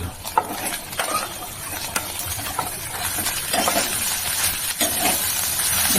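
Rice tipped into a pan and stirred for egg fried rice, with repeated scraping and clinking spoon strokes over a soft background sizzle, heard close with no talking.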